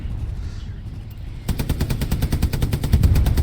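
A tank's coaxial machine gun fires in the World War II game Hell Let Loose, a long rapid burst of evenly spaced shots starting abruptly after a low engine rumble and continuing loud to the end.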